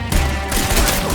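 Loud, rapid gunfire in the Red Dead Redemption 2 video game, a dense close burst of overlapping shots that fills the whole moment with no pauses.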